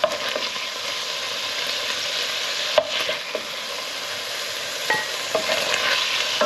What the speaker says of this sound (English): I'm just going to brown these off and then I'll come back